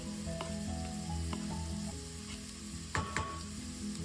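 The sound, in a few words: garlic sautéing in a pan with corned beef and potatoes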